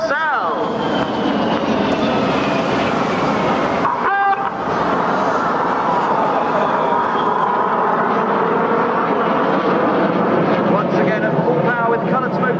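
Red Arrows synchro pair jets crossing at an RAF air show in Clacton-on-Sea, a loud sustained roar that swells and shifts in pitch as the aircraft pass, with a commentator's voice over it.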